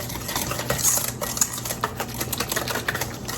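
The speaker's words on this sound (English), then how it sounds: "Whisk this together." Brown sugar and honey being whisked together for pumpkin granola, with a quick, steady run of light clicking taps against the bowl, close and moderately quiet.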